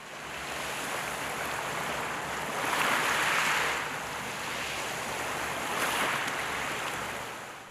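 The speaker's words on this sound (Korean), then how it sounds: "가슴까지 시원해지는 파도 소리가 괜시리 설레게 만드는 이곳." Ocean waves rolling onto Ganpo beach, a steady broad roar of surf with two swells building louder, heard alone with no voices.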